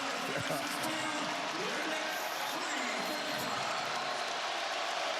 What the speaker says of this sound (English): the crowd's cheering for a miss